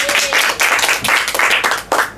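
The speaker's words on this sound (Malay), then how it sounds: "Tahniah, beri tepukan yang gemuruh." Applause in a classroom for a student who mastered the day's lesson: a short burst of group clapping, dense and fairly close, with rhythmic surges that fade out at the end.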